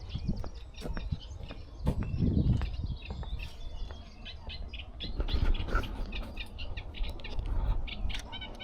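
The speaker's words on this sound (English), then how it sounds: "Reed warbler." Reed warbler on Staines Moor singing a chattering, scratchy run of chirps and notes, moderately near, over a steady outdoor background with low rumble.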